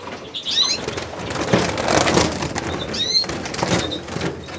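A green siskin cockbird flutters and beats its wings as it is put into a cage, with bursts of flapping, short chirps and cage rattles close by.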